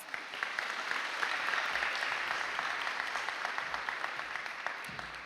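Audience at a high school honor society induction and hooding ceremony applauding a student, steady scattered clapping from a crowd, soft and somewhat distant, continuing evenly without speech.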